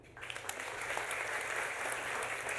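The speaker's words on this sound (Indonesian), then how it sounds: "Tepuk tangan dulu" An audience at a church seminar on finding a spouse bursts into applause, dense steady clapping from many hands filling the room for a couple of seconds.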